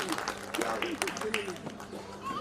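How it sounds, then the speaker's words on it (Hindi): An audience in a hall breaks into applause, a dense, moderately faint clatter of many hands heard under a voice speaking over it. "बस एक बार पूरा सदन हाथ खड़े करके जोरदार तालियां बजा दे"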